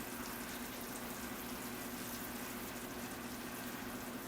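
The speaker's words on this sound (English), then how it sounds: "You can hear that soil sucking up the water," Soil in a bonsai pot of royal oak fizzes and crackles softly as it absorbs freshly poured water, a faint, steady hiss close by.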